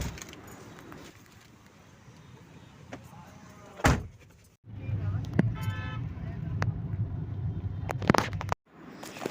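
Getting into a car on a trip to an office in Bhubaneswar: keys jangle, a door shuts with a sharp thud, then the engine idles low and steady with another door clunk, under intermittent talk and road noise.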